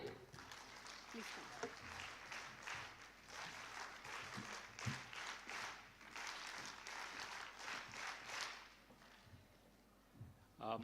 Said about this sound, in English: can we have the NSS clap before he begins the session